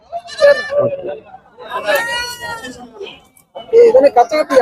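Goats at a goat market in Kunnathur bleating loudly up close, several wavering cries in quick succession with pauses between, amid crowd chatter.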